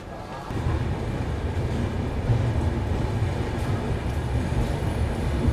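Heard from on board, the 22612 New Jalpaiguri–MGR Chennai Central SF Express pulls out of New Jalpaiguri platform 1, a low, steady rolling rumble that swells in after a brief quiet start and holds evenly.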